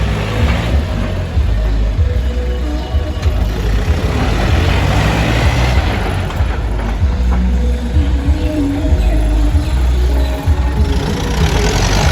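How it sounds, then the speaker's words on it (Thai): A Yanmar EF514 tractor diesel engine idles steadily up close, a continuous low, chugging rumble that holds an even level throughout. "เสียงเครื่องและดูการขับเครื่องของรถคันนี้ครับผม"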